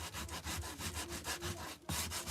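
Rhythmic scraping strokes of sandpaper rubbing back and forth across painted wood by hand, steady and close, with a brief pause before the strokes resume.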